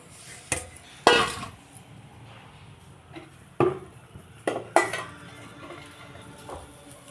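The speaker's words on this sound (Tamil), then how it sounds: "முதல்ல வெண்டைக்காய் கடாயில் போட்டு" Okra goes into a kadai, producing a handful of sharp metallic clanks and scrapes from the pan and utensil, spaced irregularly over a quiet kitchen background.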